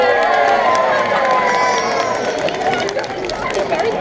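A crowd at a West Midlands safari park sea lion show cheers and claps loudly in a sustained burst of noisy babble.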